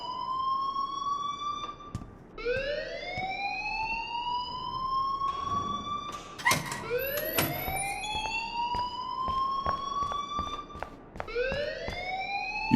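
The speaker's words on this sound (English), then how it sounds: "please turn off that alarm since that's your job" A fire alarm blares through a game scene in Life Is Strange, repeating rising electronic whoops that sweep upward again and again, loud and steady across the whole stretch with brief sharp clatters in the middle.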